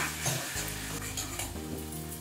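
Turmeric and Kashmiri chilli powder sautéed with a splash of water for dhokar dalna, a close steady sizzle with stirring and a low bubbling undertone, no talking.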